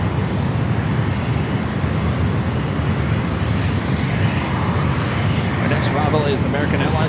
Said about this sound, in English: is American Airlines Flight 1950 coming up from Phoenix, a 737-800.